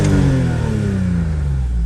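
Engine of a Kia Amanti car under restoration revs, a loud close mechanical roar whose pitch sweeps slowly downward as the revs fall off, with no voices.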